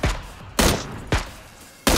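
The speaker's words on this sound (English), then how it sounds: "Are you shooting the guy shooting at us?" Gunfire in the video game PUBG: three or four sharp, loud shots spaced roughly half a second apart, each ending in a short decaying tail.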